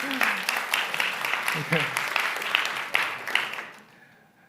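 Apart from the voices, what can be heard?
audience applause after a speech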